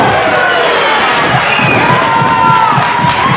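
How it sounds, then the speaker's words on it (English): A loud wrestling crowd at a tag-team match cheers and shouts continuously, with rhythmic low pulses of voices counting along beneath the roar. "And the crowd counting along."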